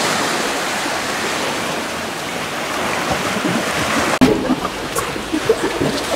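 Sea waves at high tide on Padang-Padang Beach in Bali, a loud, constant wash of surf with a sharp crash partway through followed by choppier splashing.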